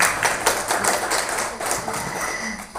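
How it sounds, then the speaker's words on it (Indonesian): Hands clap during an online teachers' webinar: quick, fairly crisp taps close to the microphone, several clappers blending into a short burst of applause with no talk over it. "Oke, tepuk tangan."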